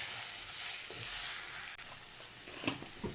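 Green beans sauté in oil in a pan for beans poriyal, giving a soft, continuous sizzle with a few light stirring knocks and no talking.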